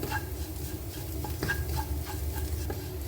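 Masala for a spicy chicken dish is stirred in a pan over the flame, a steady low sizzle broken by repeated scraping and clinking strokes of the spoon, with no talking.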